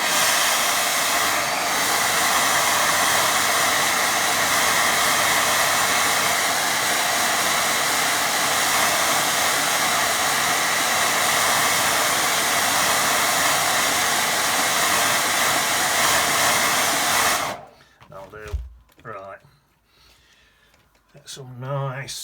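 A hair dryer blasts steadily and loudly for about seventeen seconds, drying a watercolour painting of mountains and pines, then cuts off abruptly, leaving quieter handling noises and faint room sounds.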